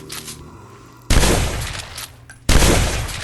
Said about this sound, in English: it's easy to do with the shotgun